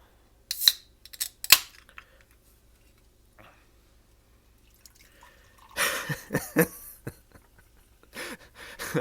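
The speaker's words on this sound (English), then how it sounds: "Let's pour it in my little glass here." Ghost Electric Limeade energy drink poured into a small glass, heard as a few sharp clinks and drips early on, then a louder burst of splashing liquid and fizz later, close to the microphone.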